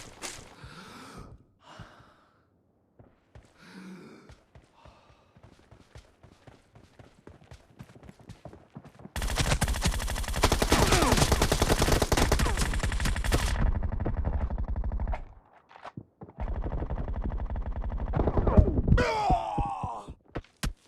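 Rapid assault rifle fire in PUBG Mobile, a long sustained burst of loud automatic shots in the middle, framed by scattered single shots, footsteps and short in-game voice sounds.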